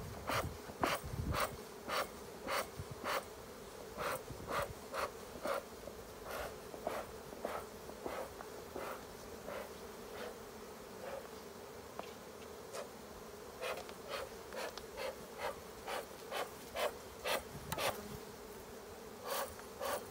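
Honeybees from a hive during a honey harvest, a steady insect drone with repeated sharp buzzing passes of individual bees flying close by, alone without talk.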